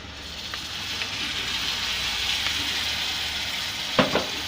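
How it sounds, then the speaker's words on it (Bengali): Ginger garlic paste fries in a hot pan with a steady, even sizzle and crackle throughout. A couple of sharp utensil knocks sound near the end. "এখন পরিমাণ মতো আদা রসুন পেস্ট দিয়ে দিলাম"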